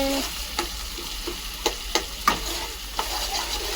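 Chicken fries in a pan on a village cookstove, with a soft steady sizzle under repeated scraping and clacking as it is stirred, the spoon strokes landing roughly every half second.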